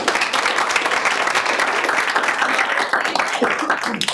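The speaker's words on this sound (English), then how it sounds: "I would like a round of applause for the presenters themselves today." Applause for presenters at a university process-improvement presentation event: dense clapping from an audience fills the room at a steady level for a few seconds, loud and close.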